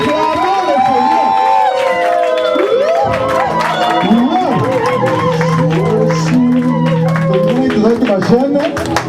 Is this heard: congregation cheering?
yes